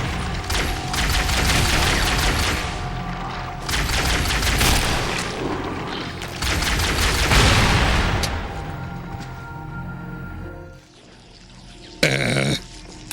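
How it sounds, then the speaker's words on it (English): Halo combat with a rapid rattle of gunfire and heavy rocket explosions rolling in several loud, dense waves, then a quieter lull broken by one sharp close blast near the end. "That's a rocket."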